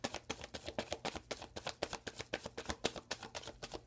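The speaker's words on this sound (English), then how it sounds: "before we continue to shuffle" Tarot cards being shuffled give a quick, even patter of soft riffling slaps, close and fairly quiet, with no talking.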